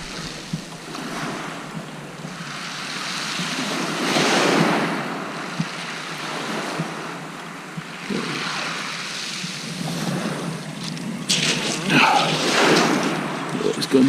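Sea waves wash onto the beach at Eastbourne in a steady roar of surf, swelling and easing over wind noise on the microphone, with a louder surge near the end.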